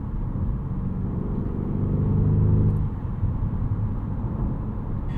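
Twin-turbo V8 of a 2025 Porsche Panamera GTS four-door during an evening commute, a steady deep engine rumble from inside the car that swells briefly under load, then settles back to an even drone.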